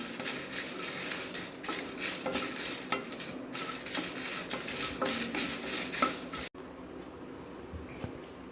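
Curry leaves, dried chillies and garlic fry in a pan with a steady close sizzle, stirred with scraping and light clinks of a utensil against the pan, continuous and fairly quiet.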